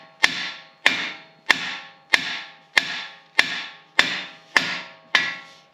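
A hammer taps a steel steering knuckle on a Jeep JK to free the tie rod end: nine evenly spaced, sharp metallic strikes, close and loud, each ringing briefly, with no talking.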